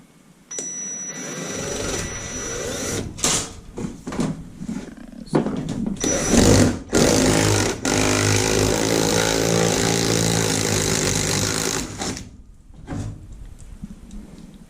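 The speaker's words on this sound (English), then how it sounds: "Let's go ahead and get this drilled." A power drill with a hole saw whirs and grinds through material in a long, steady run, with short bursts and clattering handling noises before it stops.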